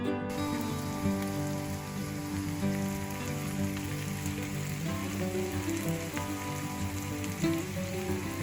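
Shrimp frying in a pan with sautéed onion and garlic, a dense, steady sizzle and crackle running continuously throughout with no talking.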